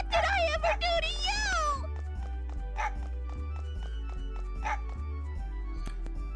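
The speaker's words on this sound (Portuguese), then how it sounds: "O cachorro saiu correndo atrás da menina." A dog in the Mega Man Legends video game barks repeatedly while chasing a girl, sharp yaps recurring over a looping bass-heavy game soundtrack, with a voice speaking at the start.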